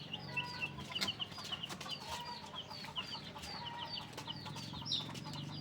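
Rhode Island chickens clucking in a coop, with repeated short, fairly soft clucks and murmurs over a low background hum, no speech.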